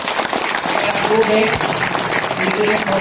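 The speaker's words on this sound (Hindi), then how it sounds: "आइए उनके स्वागत में जोरदार तालियां बजाएं, जोरदार तालियां।" Applause from an audience greets the chief guest at a Republic Day celebration at NIEPVD Dehradun, sustained loud clapping from a crowd throughout, with a voice audible over it.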